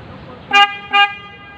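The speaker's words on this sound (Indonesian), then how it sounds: "saya memakai klakson ini. Bunyinya seperti ini," A Honda Thunder 125 motorcycle horn honks twice in quick succession, loud and nearby, each beep short and bright, with quiet between them.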